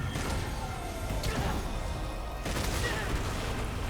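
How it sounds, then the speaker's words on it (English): Missiles explode in Devil May Cry 5 in a dense, loud barrage of crashing blasts and booms, with sharp impacts around the one-and-a-half and two-and-a-half second marks over continuous battle noise. "Oh no! Missiles!"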